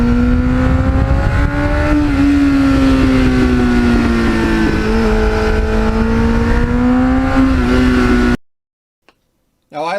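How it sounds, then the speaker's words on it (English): A 1989 Kawasaki GPX750R with a loud MUZZY muffler screams at full throttle, its engine note climbing and holding steadily through the gears, close and very loud, before cutting abruptly to silence. "that MUZZY muffler is a little louder, actually it's a little louder than I'd like, and it gets really loud at full throttle"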